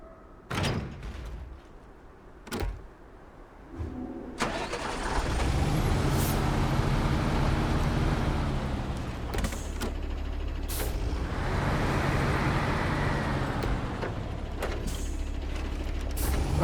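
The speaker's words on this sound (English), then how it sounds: "I guess I'll grab the Voron Grad because it's the closest thing we have that has a crane" A heavy Voron Grad crane truck in a driving game lets out several sharp air-brake hisses and clunks before its engine settles into a loud, steady rumble that runs to the end, broken by further hissing bursts.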